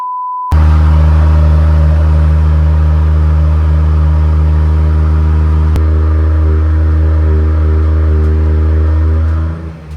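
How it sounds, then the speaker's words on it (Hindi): A Land Rover Defender engine cold-starts with a sudden catch, then settles into a loud, steady, deep idle rumble that stays close and constant, with no voices over it. "ये तो हमारी डिफेंडर कोल्ड स्टार्ट, पूरी धरती हिला दी।"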